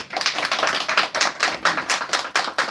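An audience at a product launch event claps in a fairly regular rhythm, close and distinct, each clap sharp and spaced evenly across the stretch.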